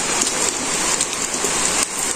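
Rain falls in a village as a dense, constant hiss of drops on surfaces, close and fairly loud, with no talk over it.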